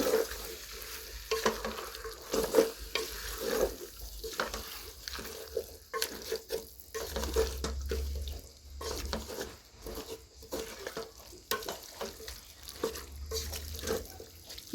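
Tomatoes and biryani ingredients stirred together in a cooking pot, a steady scraping and sizzling mix with faint watery splashes, continuous and fairly quiet with no voices.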